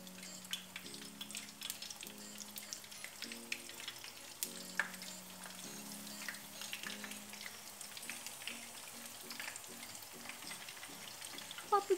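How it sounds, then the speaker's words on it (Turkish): Thin eggplant slices fry in plenty of hot oil in a pan, giving a steady crackling sizzle with scattered sharp pops, close and continuous throughout. A faint musical drone runs underneath. "Bolca yağım kızdıktan sonra patlıcanlarımı içerisine ilave ediyorum."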